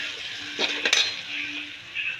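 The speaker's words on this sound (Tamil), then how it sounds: "மஞ்சத்தூள் போட்டுக்கிறோம், வதக்கிறோம்." Onions with turmeric frying in a pan for chicken gravy, giving a soft, steady sizzle with a few quick scraping and clinking stirs of a utensil against the pan, close by and without talk.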